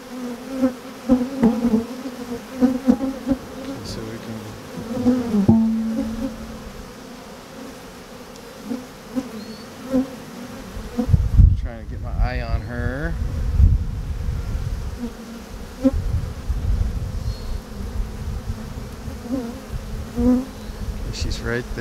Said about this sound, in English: so many bees in there